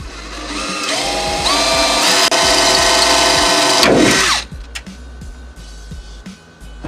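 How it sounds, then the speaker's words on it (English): A power drill whines loudly and steadily for about four seconds, drilling out a rivet on a Foxbody Mustang trunk lock assembly, its pitch shifting as it bites, then stops, leaving faint clicks and handling noise. "So you're gonna have to drill this rivet out to get it out."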